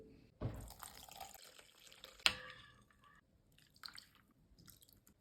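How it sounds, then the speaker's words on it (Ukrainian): Pike roe rinsed with warm water: water splashes and trickles in short bursts, with a sharp clatter partway through and quieter rinsing sounds after. "Ікру потрібно промити теплою водою"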